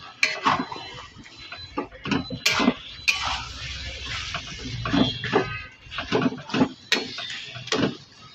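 A utensil scrapes and clinks against a pan as turmeric powder is stirred into shrimp and taro leaves, giving irregular, fairly loud metallic taps and scrapes with no talking.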